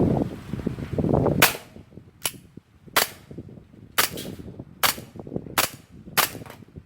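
A gas-powered BB pistol fires 0.2 g pellets: about seven sharp, loud cracks spaced roughly a second apart, following a brief noisy rustle at the start.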